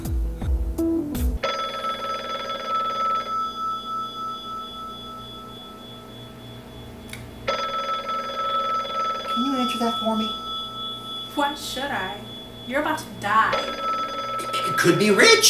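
A telephone rings repeatedly in an indoor scene, a clear electronic chirping ring with pauses between bursts, with people talking over the later rings.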